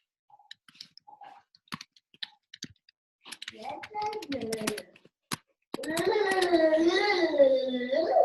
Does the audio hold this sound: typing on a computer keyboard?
yes